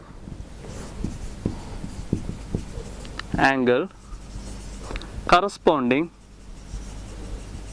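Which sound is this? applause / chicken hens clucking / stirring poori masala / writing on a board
writing on a board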